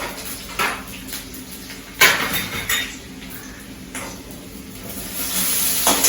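Garlic frying in hot oil for tomato chutney, with curry leaves in the pan, gives a steady close sizzle and crackle, broken by a few louder spits and stirring clinks against the pot, with no talking.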